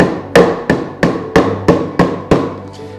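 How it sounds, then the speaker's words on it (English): A hammer repeatedly strikes a wooden centerpiece to distress it, seven loud, close, evenly spaced thwacks on solid wood, each with a short ringing decay and no voices. "You could take a hammer and take the frustrations of your life out on this."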